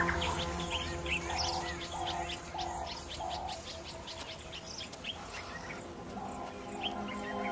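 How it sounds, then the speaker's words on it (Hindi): A large flock of quelea birds calling at sunset in the African wild, a dense continuous chorus of chirps and tweets with a repeated cooing call beneath, steady and fairly loud throughout. "सूरज ढलने पर क्वेलिया पक्षियों का बड़ा सा झुंड एक साथ इकट्ठा होता है।"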